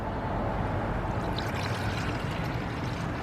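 Antifreeze poured into the cooling system of a GM car during a water pump replacement, a steady, close liquid pour with faint gurgling that runs continuously for the whole stretch, no talking over it.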